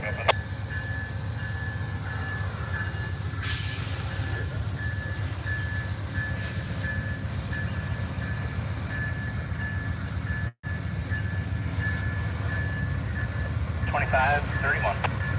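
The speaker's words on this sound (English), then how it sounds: "Amtrak 5 departing Ottumwa initiating movement." Amtrak 5, the California Zephyr, departs Ottumwa station, Iowa, with a steady low rumble of the moving train, a faint high tone and brief squeals, heard at a distance under a continuous background wash.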